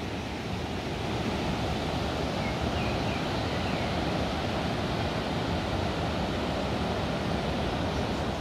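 Steady rushing flow of water at the Tinipak River water source, a constant broadband roar close to the microphone with no break over eight seconds.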